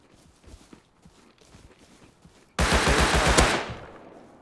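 Rapid burst of automatic gunfire in the survival video game Rust, loud and close, erupting suddenly after quieter scattered footsteps and clatter, then tailing off.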